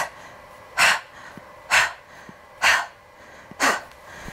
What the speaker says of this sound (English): So we're going to utilize that contraction with the breath of fire. So it's going to be at a quicker pace.